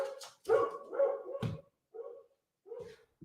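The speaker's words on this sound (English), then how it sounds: "Got my dog in the studio" A dog barks in a home studio: several sharp, loud barks in an irregular burst, followed by a few shorter, quieter yips after a pause, close to the microphone.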